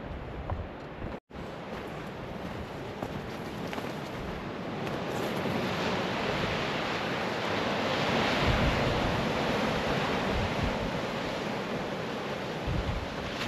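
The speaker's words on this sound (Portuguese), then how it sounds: "E ali tá o mar." Sea waves roll onto the beach at Praia de Galapinhos in Portugal, a broad continuous roar of surf with wind rushing over the microphone, swelling louder toward the middle; no talking.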